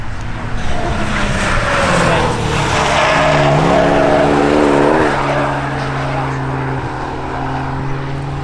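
A Ford ST car drives past at the Castle Combe circuit during a summer action day. A steady, loud engine drone holds through the whole stretch, with the pitch sweeping as the car passes and aircraft-like hum mixed in.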